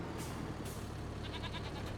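Goats bleat faintly in Farming Simulator 25, a few short wavering calls over a low engine-like drone, distant and quiet with no talking.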